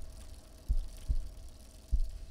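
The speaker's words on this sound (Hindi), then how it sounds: "वो है उसके दिल की धड़कनें।" A heartbeat sound effect in a film, deep low thumps in paired beats repeating at a steady pace, close and prominent over a quiet background hum.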